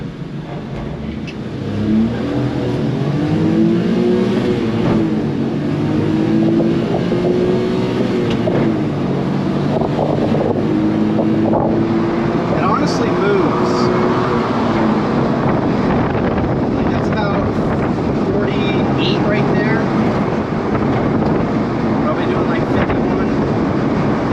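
Engine drone and road noise from a Honda Acty mini truck while driving, a steady low rumble with shifting engine tones and wind buffeting throughout, no speech.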